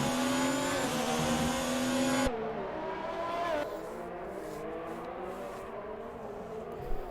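Race car engines, including a McLaren, scream at high revs in a sim racing league replay of the American Grand Prix. A loud whining tone rises and shifts, then drops to quieter engine noise from cars further off.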